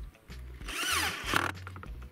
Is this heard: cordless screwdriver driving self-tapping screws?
yes